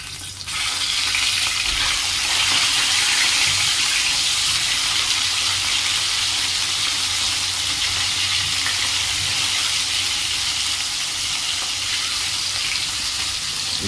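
Pieces of rohu fish fry in a pan in hot oil after being flipped, giving a loud, steady, hissing sizzle that carries on without pause.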